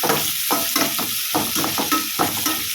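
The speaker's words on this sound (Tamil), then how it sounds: "அதையும் சேர்த்து நல்லா ஃப்ரை பண்ணிக்கோங்க." Onions and green chilli fry in a pan with a constant hiss, while a spoon stirs them in quick, regular scraping strokes every half second or so, close and clear with no speech.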